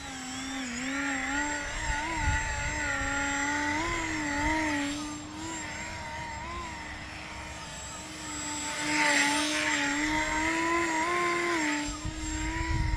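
A homemade twin-rotor RC gyrocopter flies with a steady high motor and propeller whine and rising and falling tonal harmonics as it maneuvers, staying fairly close throughout.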